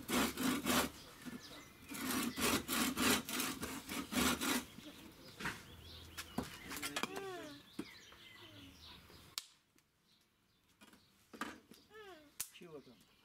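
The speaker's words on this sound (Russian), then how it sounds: "Пилим, пилим доски." Wooden boards are being cut with a hand saw, making rapid, loud rasping strokes in a steady back-and-forth rhythm. The sawing fades into quieter scraping, with birdsong chirping nearby and people talking at intervals.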